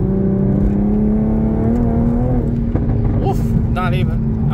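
An Infiniti G35 tuned for flames pulls hard on a bumpy road, its engine note climbing steadily and loud from inside the cabin, with a few voice sounds over it near the end.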